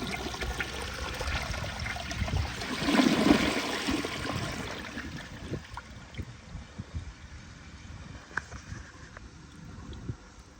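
Flush of a 1963 Standard Compton toilet: a steady rushing, gurgling swirl of water that swells around three seconds in, then tapers into a lighter trickle and refill noise, with no voices.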